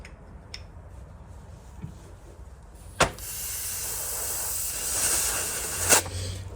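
Compressed air from an air compressor line hissing in a workshop during motorcycle brake cleaning, with a sharp click, then a steady close hiss for the last half, swelling slightly and ending with another pop.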